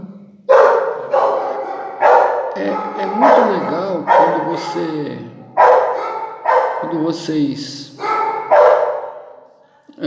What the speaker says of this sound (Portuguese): meus cachorros estão latindo, como vocês podem ouvir